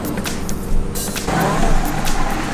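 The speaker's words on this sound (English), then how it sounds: "The bus just arrived, guys." A bus pulls up at a stop on a day trip in Brunei, its engine rumble and a brief air-brake hiss close by, with people talking nearby.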